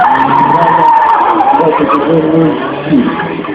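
A custom university-built slalom car based on a BMW skids through an autoslalom course in Ivano-Frankivsk in 2015, its tires letting out a loud, sustained, wavering squeal close by.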